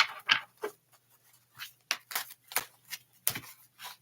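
Tarot cards are shuffled by hand at close range, a quiet series of soft papery riffles and brushes coming in irregular bursts with short pauses between them.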